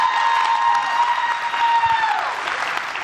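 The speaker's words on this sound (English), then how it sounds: "Let's give Meeting Street Academy, our flagship, a big round of applause for being here" A room of school staff at a professional development gathering applauds: full, steady clapping from a large audience. A thin sustained tone hums through it before the applause eases slightly toward the end.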